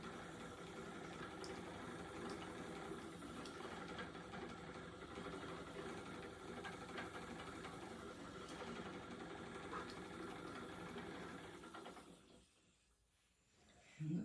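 A spinning wheel is treadled while plying yarn, making a soft, steady rhythmic whirring and clicking that runs on evenly before briefly dropping away near the end.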